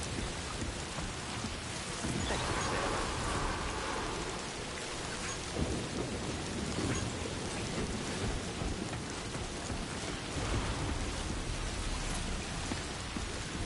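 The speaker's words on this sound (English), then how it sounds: "It's fucking raining." Steady heavy rain in an open-world video game pours down with a dense hiss, joined by low rolling rumbles of thunder, continuous throughout.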